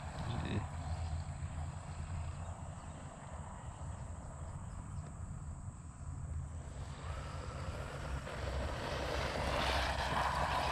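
A WLtoys 144001 RC car driving at a ballpark, its motor a steady high electric whine that builds toward the end over outdoor background noise.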